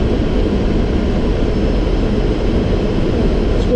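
Inside a Boeing 737 cockpit on landing approach to Naryan-Mar, a loud, constant low engine and airflow roar fills the space without a break.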